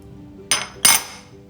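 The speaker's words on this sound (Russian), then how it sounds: "Перемешиваем венчиком, чтобы все ингредиенты объединились." A whisk clinks twice against a bowl while mixing coconut flakes, almond flour and powdered sugar, two short bright metallic taps close by in an otherwise quiet kitchen.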